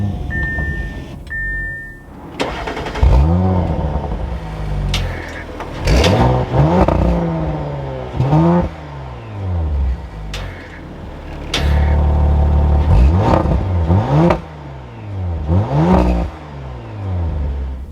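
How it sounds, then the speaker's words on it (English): A 2021 Audi RS5 Coupe starts with a short chime, then the engine fires and is blipped repeatedly, sharp rev surges falling back to a deep idle rumble, close and loud with no talk. "now inside the RS5, keeping my foot on the brake, we can go ahead and fire it up"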